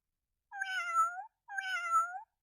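Two electronic cat meows from a 2012 VTech Tierchen Lernhandy toy phone, each about a second long, played one after the other with a short pause between, clear and alone.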